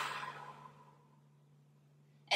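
A single hard exhale after a deep breath during a yoga breathing exercise, a breathy rush of air that fades out, followed by near silence and a soft click at the end.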